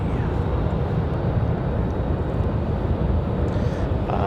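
An American Airlines jet departs for Miami from Raleigh-Durham airport, a loud, steady, low engine rumble sustained throughout the short stretch, with no talking.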